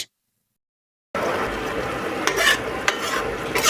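Lote fish curry gravy simmers and reduces in a pan, a steady broadband sizzle with a few louder bubbling pops, arriving after about a second of silence.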